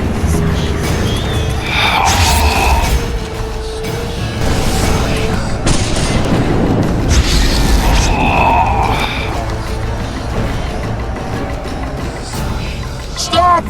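Artillery fire and explosions in a battle in The Witcher 2 video game: several heavy booming blasts a few seconds apart, mixed with shouting voices and battle noise.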